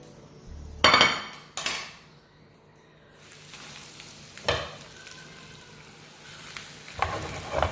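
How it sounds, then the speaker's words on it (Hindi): Potato and bread sandwiches fry in oil in a pan with a soft, steady sizzle, broken by several sharp clanks and knocks of utensils against cookware. "सैंडविच जो है वो अच्छे से फ्राई हो चुका है, और मैं इसको निकाल रही हूँ"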